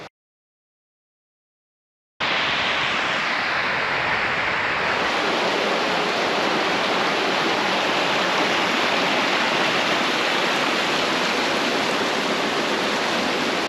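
A river winds through old-growth Caledonian forest in the Scottish Highlands, heard as a steady, close rush of flowing water that starts after a brief silence and runs unbroken to the end, with no voices.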